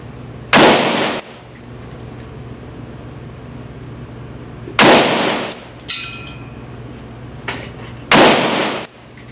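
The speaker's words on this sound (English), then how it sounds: "we're doing 2-3 rounds at slow fire, and then we're going to do a rapid fire at 25 yards" Slow-fire pistol shots at an outdoor shooting range, three loud sharp reports spaced several seconds apart, each ringing briefly before fading, with a fainter pop between the second and third.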